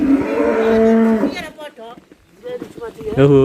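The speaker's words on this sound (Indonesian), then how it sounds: "Sementara di samping kiri kita ada sapi, kampung susu, wisata kampung susu." Cows moo loudly beside a road through a dairy village, two long low bellowing calls with a quieter gap between them and a faint voice in the background.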